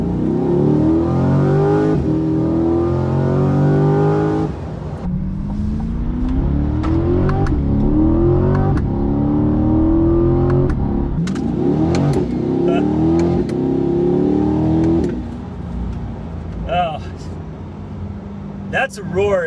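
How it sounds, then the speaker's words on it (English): Chevrolet C8 Corvette V8 roars through repeated acceleration pulls, its deep engine note rising in pitch with each gear before easing off near the end, loud and close, with someone talking over it. "When you get on it, that V8 just completely opens up."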